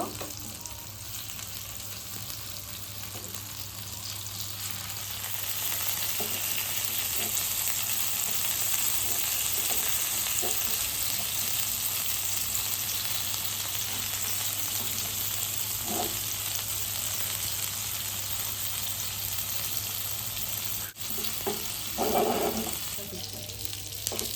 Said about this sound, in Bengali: এবার গ্যাসের মানে আঁচটা কিন্তু আমি একদম লো করে আস্তে আস্তে কাবাবটাকে ভাজবো